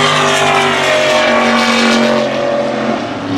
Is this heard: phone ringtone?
no